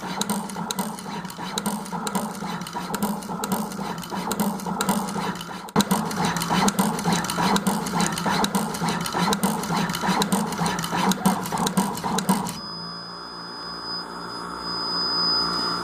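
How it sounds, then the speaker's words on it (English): An SMT pick-and-place machine runs at full speed, a dense, steady mechanical whir with rapid rhythmic clicking that continues for most of the span, then gives way to a quieter hum with a thin high whine near the end. "There's also a high-speed button, so I can turn on high speed. And you can see that the machine moves in full speed."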